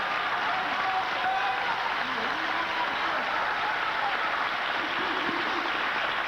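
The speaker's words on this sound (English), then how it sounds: "Give a round of applause." An audience breaks into steady, dense applause that fills the space evenly and holds at a constant level with no voices on top.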